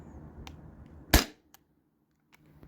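A Sabre 68 home defense launcher fires a 7.2-gram aluminum alien play ball, making one sharp, loud pneumatic crack that ends quickly, with faint clicks and handling noise before and after.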